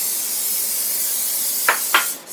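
Cooking spray hisses heavily into a casserole dish as a steady close spray, ending with two short sharp bursts.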